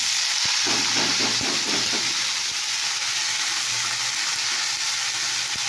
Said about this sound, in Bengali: তো এবার আমি শাকটা দিয়ে